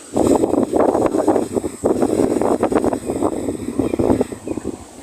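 Strong storm wind sweeping over a river buffets the microphone in a loud, continuous low rumble with gusting surges for the whole stretch, with no clear talk over it.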